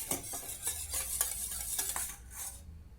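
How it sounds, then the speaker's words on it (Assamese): Cake batter being beaten by hand in a bowl for a cake made in a kerahi, giving a steady run of soft scraping, slapping strokes close by that stop abruptly near the end, with no talking. "এইখিনি ধুনীয়াকৈ ফেটি লম মিক্স নোহোৱালৈকে"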